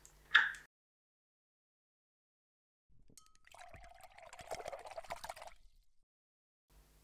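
Acrylic paint medium and water are poured carefully into a container in a quiet room. A soft, trickling liquid stream runs for a few seconds after a brief knock.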